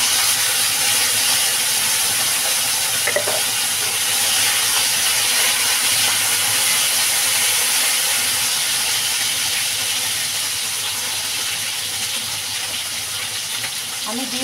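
Taro roots (kochur mukhi) fry in hot oil tempered with cumin seeds, giving a continuous, fairly loud sizzling hiss that barely changes across the whole stretch.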